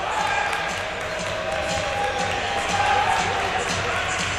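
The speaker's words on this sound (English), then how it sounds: "And the Hatters crowd really erupting over there." The Hatters home crowd at a high school basketball game between Hatboro-Horsham and Allentown Central Catholic cheers in a dense, sustained roar that holds steady throughout, with ball bounces and scattered voices mixed in.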